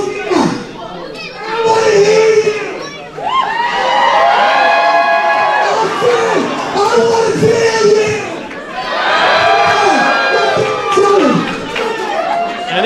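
Wrestling crowd at the EWF arena cheering and shouting loudly throughout, a dense roar of voices that swells and dips in waves with excited yells rising above it.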